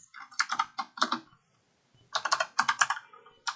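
Rapid typing on a computer keyboard while designing a leather wallet in Inkscape, two close bursts of quick, even key clicks separated by a short silent pause, with no voices.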